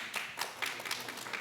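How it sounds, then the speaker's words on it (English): Audience applause at a metaverse conference talk, a short burst of fairly faint, thin clapping from a crowd. "big round of applause to you guys"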